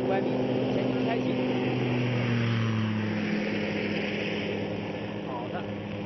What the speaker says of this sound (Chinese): 我们看到它现在已经是满油门，但是听起来声音也并不是非常刺耳